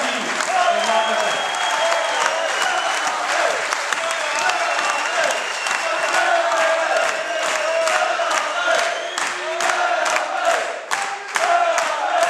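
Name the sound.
applause for the football club manager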